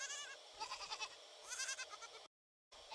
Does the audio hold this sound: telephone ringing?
no